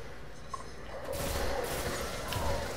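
A three-round burst gun fires in the video game Destiny, a few quick clattering bursts of shots at moderate loudness over a low game background.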